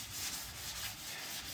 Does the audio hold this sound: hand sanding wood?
yes